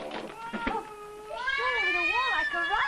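A cat yowls in a long, wavering, drawn-out cry, loud and close, after a brief stretch of speech at the start.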